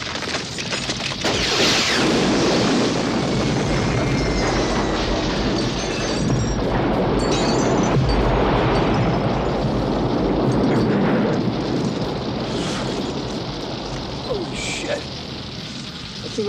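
A huge explosion in a Masters of the Universe movie scene roars loudly and continuously, a dense blast of booming, crackling debris and rumbling that swells and slowly fades.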